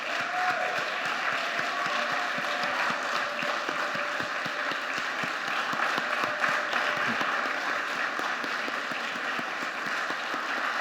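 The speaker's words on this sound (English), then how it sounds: "I will invite you to give him another round of applause." An audience gives a continuous round of applause for David Rudder at the ceremony conferring the Order of the Caribbean Community on him, a steady, full wash of clapping with individual claps audible near the front.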